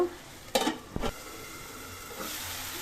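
Spice masala sizzling and hissing steadily in a hot pan as it is fried, with a couple of scraping stirs early on and a continuous close frying hiss throughout.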